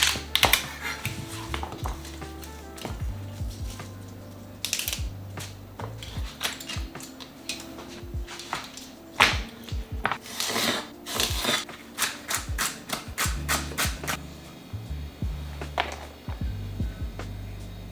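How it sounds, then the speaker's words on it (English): A knife chops through celery on a cutting board, a long run of sharp, rapid chopping strikes close by with uneven rhythm and short pauses between bursts. "Now for the celery, make sure I go ahead and cut,"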